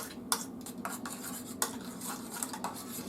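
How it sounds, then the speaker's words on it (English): A spoon stirring ingredients in a bowl before heating, for pizza: quick light clinks and scrapes of metal against the bowl in an irregular rhythm, close and quiet. "Now, take a spoon. We're gonna stir that up before we add any heat to it."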